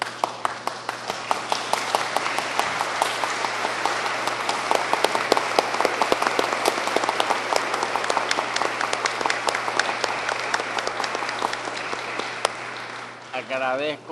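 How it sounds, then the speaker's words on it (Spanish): A standing ovation at a constitutional law congress: an audience claps loudly and continuously for an honored professor, with dense, crisp hand claps sustained for over twelve seconds before tapering off at the end. "le pido a la concurrencia que lo recibamos de pie con un fuerte aplauso"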